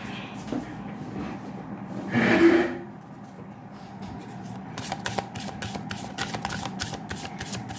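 Tarot cards being shuffled by hand, with a short soft riffle early on, then a run of quick, crisp card flicks and snaps in a close, quiet room.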